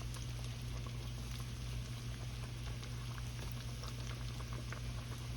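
Shrimp deep-frying in hot grease, about ten at a time, a steady dense bubbling sizzle over a constant low hum, unbroken and fairly close.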